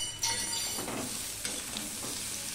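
Potatoes for alur dum fry and sizzle steadily in a pan, close and fairly loud, with a few scraping stirs partway through and no talk.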